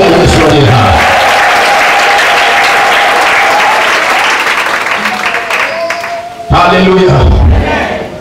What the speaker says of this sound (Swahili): Piga makofi mazuri kwa ajili ya Yesu aliye hai.